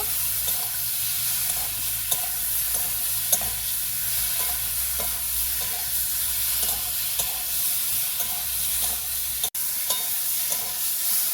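Boiled taro being fried and stirred in a pan, a steady sizzle under regular scraping and stirring strokes, with one sharp knock near the end.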